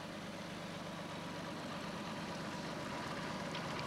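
A V12-engined pulling tractor idles at a 1997 tractor pulling event in Herning, giving a continuous, low, rumbling drone that stays steady and unchanging for a few seconds.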